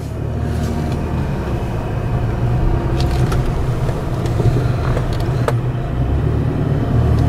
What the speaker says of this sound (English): let's go drive around here a little bit